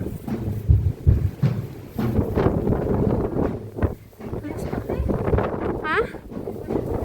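Strong afternoon wind at a mountain resort in Bansalan, Davao del Sur buffets the microphone with loud, uneven low rumbling gusts, while voices talk over it throughout.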